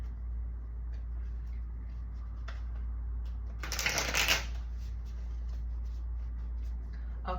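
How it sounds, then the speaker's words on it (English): A deck of tarot cards gets a single quick riffle shuffle, a short papery flutter in an otherwise quiet room with a low steady hum. "Okay, let me get one more shuffle."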